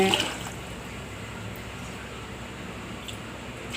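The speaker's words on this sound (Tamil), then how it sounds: "இதில் வந்து இப்போ 3 கப்பு தண்ணி ஊற்ற போகிறேங்க" Three cups of water pour steadily into a pot of sugar, a continuous soft rushing splash that holds at an even level throughout, close and with no talking.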